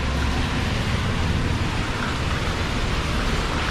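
Heavy tropical downpour on a beach at Hikkaduwa, Sri Lanka, a steady, dense hiss of rain that stays loud and unbroken throughout, with no voices.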